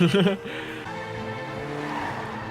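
A car skids with a sharp tire squeal in a TV drama scene, loud at the very start and quickly fading under a steady background of engine noise and music.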